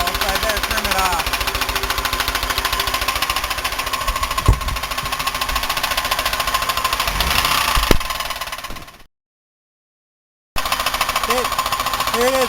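Buick 3800 V6 idling with its valve covers off, a steady rapid knocking clatter that runs loud and continuous, breaks off into a short silence, then resumes.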